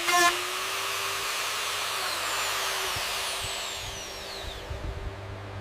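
A power tool whirs and grinds into fiberglass while shaping a custom console for a homemade Lamborghini build, with a steady close drone and varying pitch as the tool works the material.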